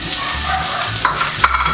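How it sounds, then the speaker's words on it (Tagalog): Garlic frying in hot oil for lumpiang ubod filling, a steady close sizzle with soft stirring scrapes and a couple of brief clinks near the end, no voices. "pwede na po nating ilagay or igisa yung ating bawang"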